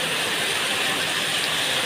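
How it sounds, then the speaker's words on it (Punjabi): Heavy rain pours down outdoors as a dense, steady rushing hiss that stays loud and unbroken throughout, with no voices. "ਐਨੇ ਜ਼ੋਰ ਨਾਲ ਮੀਂਹ ਪੈ ਰਿਹਾ ਨਾ"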